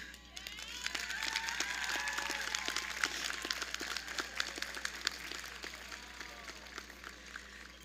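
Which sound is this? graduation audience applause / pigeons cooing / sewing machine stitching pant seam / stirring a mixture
graduation audience applause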